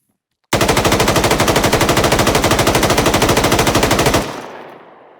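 Rapid automatic rifle fire in a video game, a dense steady burst of evenly spaced shots lasting nearly four seconds, loud and close, ending abruptly with a short decaying tail.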